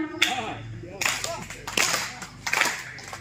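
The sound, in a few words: audience clapping along to a sung poem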